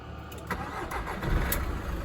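A VW or Skoda diesel car engine with a back compressor problem cranks and catches, then settles into a close, loud, rumbling idle with a few sharp clicks and ticks on top.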